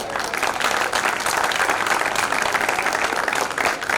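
Enthusiastic crowd applause follows a Hindi poetry recital, dense rapid clapping from many people, loud and sustained at an even level with no voices over it.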